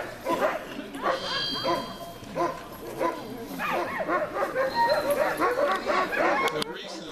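Sled dogs at a Denali National Park demonstration kennel bark, yip and whine in an excited, overlapping chorus throughout, close by and loud, with someone talking over the noise.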